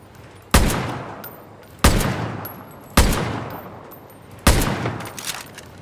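Four loud, evenly spaced gunshots from a sniper rifle in the shooter game Far Cry New Dawn, each a sharp crack followed by a long rolling decay, with no talk over them.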